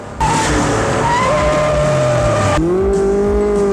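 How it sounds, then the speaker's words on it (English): Car engine roaring with a rising tire screech and skid in a movie chase scene as a giant car speeds toward kids, loud and continuous, shifting to a lower engine whine near the end. "A giant car is about to run you over?"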